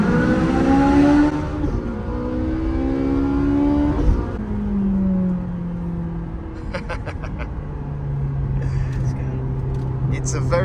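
A sports car drives through a tunnel, its engine droning and rising and falling in pitch as it shifts through the gears, with a steady rumble and the occasional sharp click.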